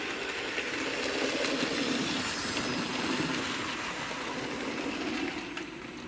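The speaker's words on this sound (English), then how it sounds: "It's surprising the difference having a chuff makes" A sound-fitted 00 gauge model train engine chuffs steadily for several seconds, a continuous close, even mechanical rumble with no voices.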